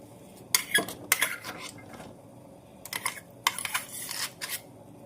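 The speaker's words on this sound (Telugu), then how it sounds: "ఇప్పుడు వీటన్నిటిని ఎక్కడ లంప్స్ లేకుండా కలిపేసుకోండి" A spoon clinks and scrapes against a pot while a ground mixture is stirred into boiling milk for payasam, in two separate clusters of sharp metallic taps with a quiet pause between them.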